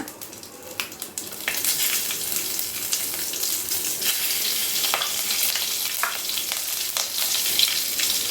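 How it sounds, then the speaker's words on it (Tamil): Curry leaves and green chillies sizzle steadily in hot oil while making hotel-style channa masala, with a continuous bright crackle and occasional stirring clicks, close and loud throughout. "கருவேப்பிலை இலை நல்லா தாளித்து போட்டாச்சு."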